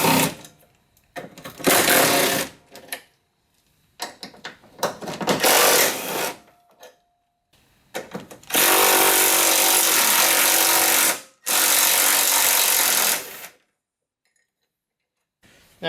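A power tool, likely an impact driver or ratchet, runs in loud bursts of several seconds each with short pauses between them while it removes four 10mm bolts from the radiator of a Cadillac CTS, close by and without talk.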